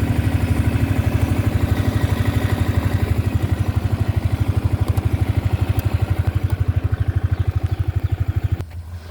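Motorcycle engines idling and clattering steadily at close range on a hillside stop, a rapid even pulse throughout before the engine cuts off abruptly near the end.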